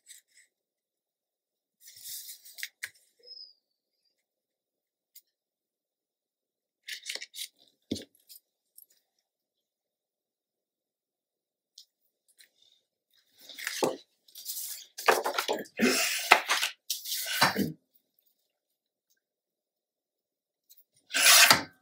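Scissors or a trimmer cutting paper for a bee-themed mini album page, heard as sparse dry rasping snips early on and then a denser run of close cutting and rubbing strokes near the end.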